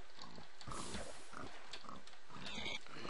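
Pigs grunt and oink repeatedly in a room inside the video game The Labyrinth, a dense, continuous chorus of snorts layered over game noise with no talk.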